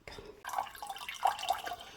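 Water poured into a cooking pot on a stove, a short close splashing and trickling with a few distinct drips and gurgles, no talking.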